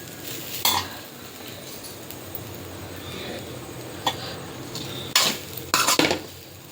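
A utensil stirs and scrapes grated coconut and dry fruits as they sauté in a pan, with a soft continuous sizzle and several sharp metallic clinks and scrapes near the end.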